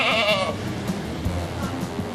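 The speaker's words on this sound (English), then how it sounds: "Well, there's the Angora goat." An Angora goat gives one short, wavering bleat during a Yankees at Blue Jays baseball game broadcast, followed by a murmur of crowd and ambient stadium noise.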